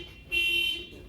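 A short electronic alarm tone blares for about half a second, a steady high-pitched beep, fairly loud against a quiet background.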